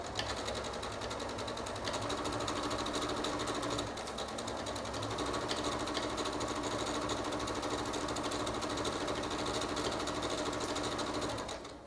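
A sewing machine stitches pajama pants in one steady, continuous run of fast, even mechanical whirring and needle clatter, close and alone without speech, slowing at the very end.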